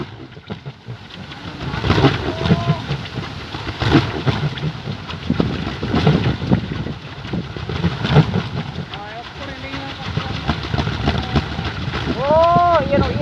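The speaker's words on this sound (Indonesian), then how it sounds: "Asli emang angin dah." Strong gusting wind buffets the microphone, with a whirring kolecer wind propeller toy spinning in it; people talk intermittently over the roaring, surging noise.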